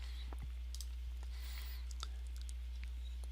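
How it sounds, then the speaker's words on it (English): Computer mouse double-clicking on an event entry in a software viewer, sharp faint clicks scattered over a quiet room-tone hiss, close and isolated with no voices. "I can also do is simply double click on the event"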